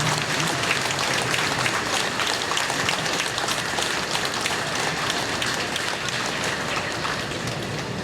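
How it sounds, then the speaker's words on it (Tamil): A large gathering applauds together in honour of their parents, producing a dense, continuous roar of clapping that holds steady and loud throughout, like heavy rain. "நாம் எல்லாரும் கையை உயர்த்தி நம்முடைய பெற்றோர்களுக்கு ஒரு கைத்தட்டல் கொடுத்து"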